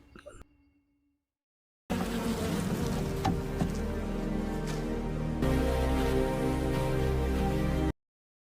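Bees buzz with a droning hum through a film scene of someone collecting honey. A faint earlier sound gives way to several seconds of steady buzzing layered with other film sound, ending abruptly.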